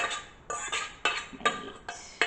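Spoon scooping cooked vegetables onto corned beef in a pot, giving five clear metallic scrapes and clinks at a steady pace, close and moderately loud, with no talking.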